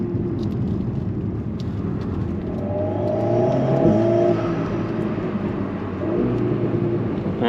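Inside a 292-horsepower Alpine A110 S with the engine just behind the seats, the turbo whistles thinly over a steady low engine drone, rising briefly in the middle as the car pulls.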